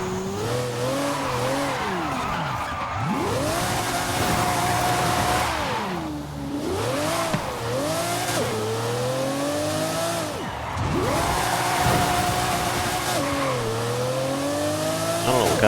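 Race car in Forza Horizon 5 driving with a loud engine whose pitch keeps rising and falling through gear changes and hard acceleration. Tires squeal at times, and no one talks over it.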